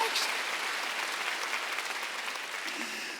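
Church congregation clapping at a Sunday worship service, a steady, fairly soft wash of many hands filling the whole stretch without a clear break.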